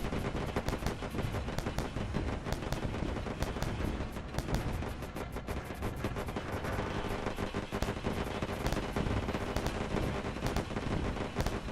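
Spaceship weapons fire steadily in the Wayward Terran Frontier space game, a dense, loud barrage of rapid gunfire-like blasts and crackling impacts that runs without a break and with no talking.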